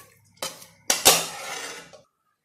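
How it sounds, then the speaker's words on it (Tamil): Cooked spinach tipped into a clay pot for keerai masiyal, a few knocks and clinking scrapes of a spoon against the pot over about two seconds, close and fairly loud, then silence. "ஸோ இப்போது வேக வச்சிருந்த இந்த கீரை இதெல்லாம் ஆட் பண்ணிக்கோங்க"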